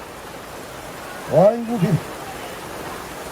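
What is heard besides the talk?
heavy rain downpour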